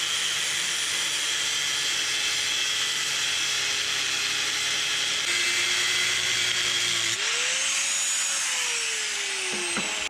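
A power tool cuts the top two coils off a VN Commodore suspension spring, a steady loud high-pitched grinding whine that holds for several seconds, then shifts in pitch as the cut progresses.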